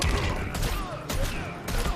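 Deadshot's gunfire in the fighting game Injustice 2 comes as a rapid, loud string of shots in three dense bursts, with crowd or arena noise filling the gaps between them.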